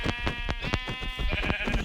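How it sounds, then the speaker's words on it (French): A sheep bleats as it is killed in Minecraft: short, repeated, wavering cries in quick succession, close and clear, with no talking. "là, je vais juste tuer ce mouton"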